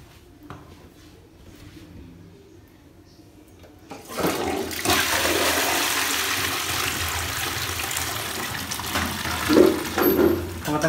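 A toilet flushes after a Fluidmaster fill valve repair, starting with a quiet hiss and then a sudden loud, rushing surge of water at about four seconds that carries on steadily to the end.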